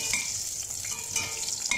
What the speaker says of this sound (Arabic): هحط الثوم والبصلاية مقطعاها